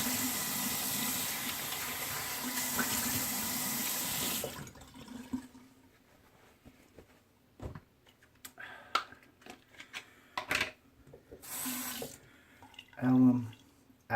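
Tap water gushes into a sink for a rinse after shaving with a Gillette Super Speed razor, a strong steady flow for several seconds that then stops, followed by sparse clinks and a brief splash.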